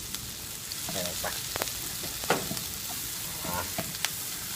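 Pounded garlic and chili fry in a pan for a Thai stir-fry, giving a steady close sizzle with scattered scraping and clatter as the pan is stirred.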